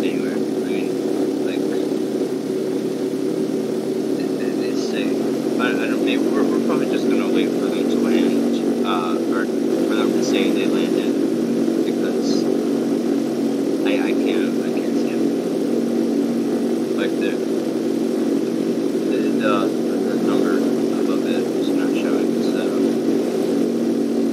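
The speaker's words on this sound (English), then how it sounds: "we're taxiing to the runway" An airliner in Flight Simulator X taxis toward the runway, its engines giving a steady, continuous drone for the whole stretch, with radio chatter and voices heard over it.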